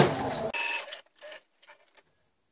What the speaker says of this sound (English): so back to sewing it again